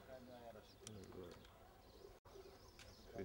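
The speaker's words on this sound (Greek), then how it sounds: "Έχουν και άνοιγμα τα περιστέρια." Pigeons coo softly amid background chatter and chirps, with people talking nearby throughout.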